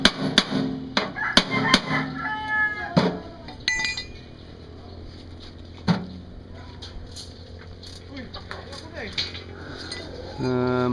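Hammering to pound a part on, heard as a series of sharp metallic strikes with clinking, loud and irregular, and a final burst of impacts near the end.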